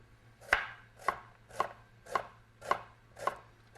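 A knife cuts across an onion against its lines to make rings on a board, six crisp, evenly spaced chops close up and alone over a faint background hum.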